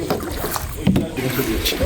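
Oars stroke and splash through water as a small rowboat is paddled along a valley stream near the sea on Jeju Island, with soft repeated dips and water movement close by under people chatting.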